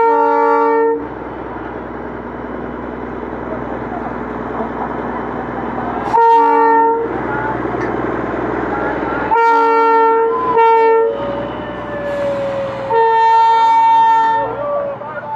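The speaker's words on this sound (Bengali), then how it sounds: "এই আসছে আমাদের দার্জিলিংয়ের হেরিটেজ টয় ট্রেন" Darjeeling heritage toy train passing at Batasia, loud and close with a rumbling run, several sharp horn toots in bursts toward the end, and steady mechanical noise throughout.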